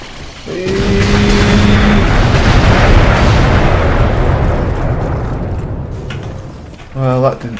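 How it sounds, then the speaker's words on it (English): Artillery strike explosion in Earth Defense Force 4.1, a loud booming blast that rumbles and slowly fades over several seconds, followed by a brief electronic voice-like burst. "Put an artillery grenade at him."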